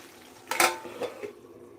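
A metal lid is set onto a pot of khichdi made with toor dal, giving a bright clatter followed by a couple of lighter clinks as it settles, close by and with no talk.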